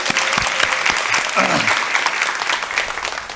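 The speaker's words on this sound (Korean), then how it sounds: "목사님 나오실 때 우리 박수로 환영할까요?" Louder, warmer round of audience applause greeting a pastor at a university chapel service, dense continuous clapping from a crowd with faint voices mixed in throughout.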